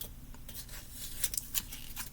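A sticker is peeled off a small piece of wood from a one-sixth scale miniature, producing close, quiet tearing and crinkling scrapes with a few sharper snaps near the end and no talking.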